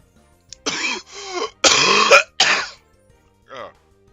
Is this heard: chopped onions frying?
no